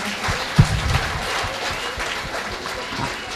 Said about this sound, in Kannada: ಇವರಿಗೆ ಒಂದೊಂದು ದೊಡ್ಡ ಚಪ್ಪಾಳೆ ಕೊಡಿ ನೋಡೋಣ